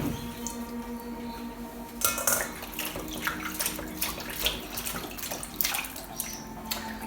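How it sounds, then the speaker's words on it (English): Running water pours steadily over salted cabbage being rinsed for kimchi, with a soft splashing and handling that picks up partway through, quiet and close. "I just got to give it a good rinse and try and get all that salt off"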